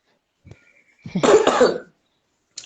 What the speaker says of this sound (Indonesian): agak batuk dan agak serak